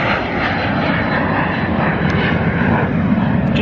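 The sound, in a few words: small private jet taxiing out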